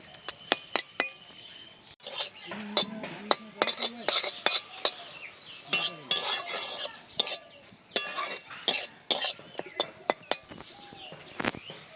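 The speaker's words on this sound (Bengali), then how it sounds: "এবার এই জলটা শুকিয়ে নেবো ভাজা ভাজা করে নেবো একটু" Rapid, repeated metal spatula scrapes and clinks against a pan of pumpkin leaves being stir-fried over a soft sizzle, close by, with faint birdsong in the background.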